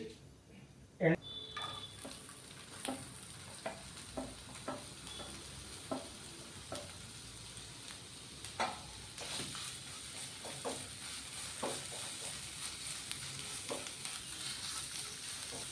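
Chopped ginger frying in hot coconut oil in a pan for a Kerala-style puli inji, a steady close sizzle with intermittent stirring clinks and scrapes throughout.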